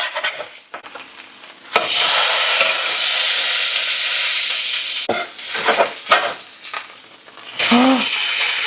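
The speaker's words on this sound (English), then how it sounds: "Gonna cook them with the butter and try to flip them as fast as possible" Salmon fillets frying in butter in a pan sizzle loudly and steadily, broken by scraping stirs and the clatter of turning the pieces over, with a brief voice at the end.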